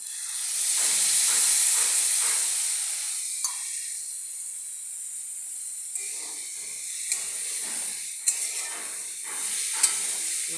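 A spice paste of garlic, ginger, cumin and ground coriander hits a hot pan and sizzles, a loud steady hiss that eases slightly, punctuated by a few sharp clicks and scrapes from stirring.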